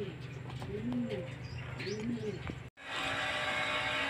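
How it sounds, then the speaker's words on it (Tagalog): Racing pigeons coo in a steady, close rolling rhythm, repeated calls with chirps overhead, before an abrupt cut to a broad, steady hiss of outdoor noise. "Ayun na nga mga kalapatid."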